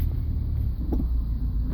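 A 2000 Subaru Legacy engine with low power and revving problems runs with a low, steady rumble and slight surges, close by with no voices.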